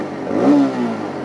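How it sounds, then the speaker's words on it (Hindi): A TVS Raider 125 cc motorcycle gives a short, close exhaust note that swells briefly in a quick rev and settles back to a steady mid-pitched hum. "ये 125 cc की बाइक है, इसका एग्जॉस्ट नोट और क्या पावर पैक परफॉर्मेंस डिलीवरी करती है"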